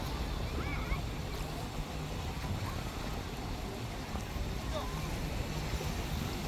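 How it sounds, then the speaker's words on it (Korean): Ocean waves wash and rush continuously at Gyeokpo Beach on the Byeonsan Peninsula, Korea, with a broad hissing roar and wind noise, steady and fairly close, with no talking. "밀려왔다 밀려가는 저 파도들 저 파도 소리의 시원함이 들리지 않나요?"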